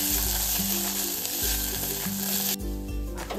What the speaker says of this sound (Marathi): इथे एका बाजूला दुधी भोपळा सुद्धा छान असा परतत आलाय।